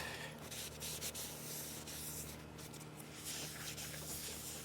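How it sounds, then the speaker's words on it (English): A new Ford Ranger brake rotor is cleaned with brake cleaner, giving a quiet, continuous rubbing and hissing wipe close by that runs throughout with small swells. "I'm going to clean our brake rotor with some brake clean"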